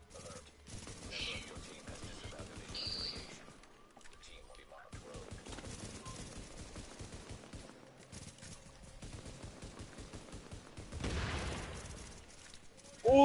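Rapid pistol gunfire in a multiplayer shooter match, dense crackling bursts running nearly throughout at moderate level, with players talking over the shots.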